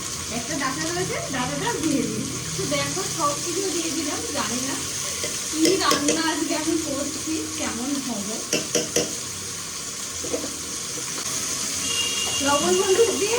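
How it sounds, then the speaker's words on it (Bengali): Ingredients for a fish curry, potatoes with salt and turmeric, frying in a pan with a continuous loud sizzle and stirring scrapes, while someone talks over it throughout. "আগে এগুলো ভালো করে একটু ভেজে নিই"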